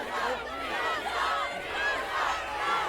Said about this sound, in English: And this crowd getting behind Ninja Mac, trying to will him back up to his feet.